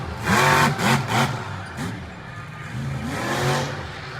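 Monster truck engine revving hard during a freestyle sky wheelie at a West Lebanon 2024 monster truck event, with two loud surging bursts early, a dip, then another rising roar, all close and dominant.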